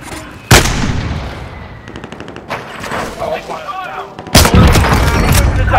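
Video game gunfire with heavy, booming shots: one sharp blast, a stretch of scattered rattling fire in the middle, then a second loud burst that keeps going to the end, with faint voices underneath.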